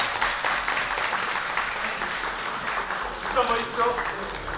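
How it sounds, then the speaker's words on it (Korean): An audience applauds at a regional governors' cooperation meeting, a dense steady wash of clapping filling the room while a voice talks over it. "뜨거운 박수 부탁드리겠습니다"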